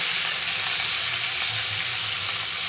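Onion, garlic, ginger and cumin paste with turmeric sizzle loudly and steadily in hot oil, a dense continuous frying hiss close up with no talk.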